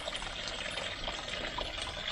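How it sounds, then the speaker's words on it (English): Water from a DIY pond filter system pours out in a steady, continuous stream, a full broadband splashing rush that stays even and fairly loud throughout, with no voices. "you can see the amount of water that's coming out of there"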